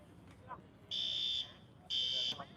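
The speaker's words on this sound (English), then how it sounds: "Seems to be fire alarm is my guess, but there's no real urgency" A fire alarm sounds in two loud, sustained electronic tones, each about half a second long and a second apart, over faint background noise.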